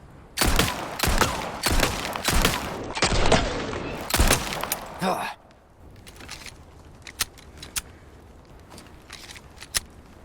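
Handgun fire from Leon in Resident Evil 4 Remake: a rapid run of loud, sharp shots in the first half, followed by quieter scattered clicks and faint ambience, with no talk.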